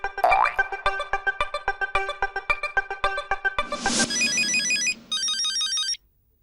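An electronic phone ringtone plays a rapid, repeating melodic pattern, then shifts into warbling digital trills before cutting off.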